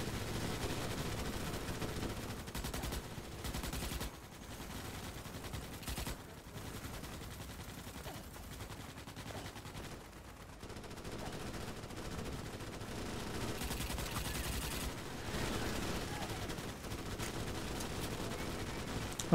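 Sustained automatic gunfire from a shuttle and weapons in the Starship Troopers: Extermination video game, a dense continuous barrage of rapid shots filling the whole stretch at steady loudness with brief dips.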